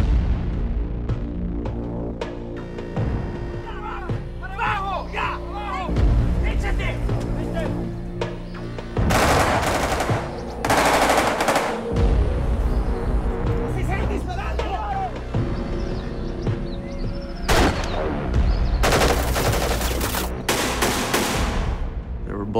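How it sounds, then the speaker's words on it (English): Machine gun fire erupts during a rebel military abduction, with bullets flying overhead: loud bursts of rapid shots around the middle and near the end, over a throbbing background, with people talking. "Bullets flying over our heads"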